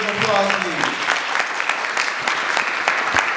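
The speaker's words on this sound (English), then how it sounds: "Give her another big round of applause, please." A conference audience gives a speaker on non-verbal communication a big round of applause, dense and sustained clapping from a crowd, with a voice speaking over it at the start.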